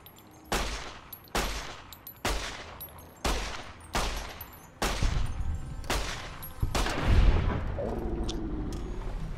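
A series of loud, sharp gunshots in Fallout: New Vegas at the N.C.R. Correctional Facility, about eight, spaced roughly a second apart, each echoing and decaying, ending in rumbling background noise.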